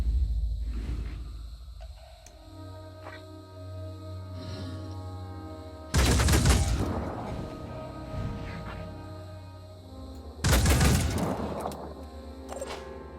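Turret fire in Phoenix Point, two loud, heavy bursts a few seconds apart, each with a booming low impact, over a droning game music bed.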